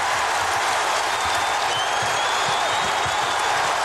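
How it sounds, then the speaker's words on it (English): Basketball arena crowd roaring after a Mutombo block during the 2001 NBA Finals Game 4 between the Lakers and 76ers, a dense, steady wash of cheering and applause with faint rumbling undertones throughout. "The crowd responding to the Kemba Mutombo."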